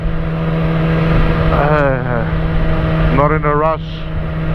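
A Yamaha R6 supersport motorcycle on a relaxed night ride, its engine humming in a steady, loud, even drone with heavy wind rush, while the rider speaks briefly over it twice.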